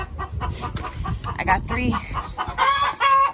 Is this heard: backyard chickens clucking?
yes